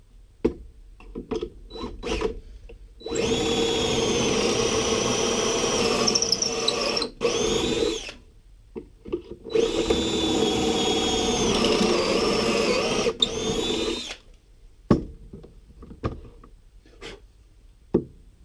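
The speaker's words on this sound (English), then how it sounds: "I'm going to add 2 pocket holes so I can attach this to the shelf" A drill boring pocket holes into a wooden piece for workshop shelving, two long loud whirring runs of a few seconds each, with short taps and handling knocks before and after, close up and without talk.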